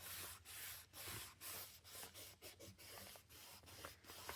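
Paper collage in an art journal being burnished by hand, a close, dry rubbing sound in repeated short strokes with brief pauses between them, quiet and alone.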